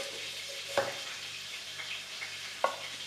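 Ground beef frying in a pan, a soft steady sizzle close by, broken by a couple of brief spatula knocks, with no voices.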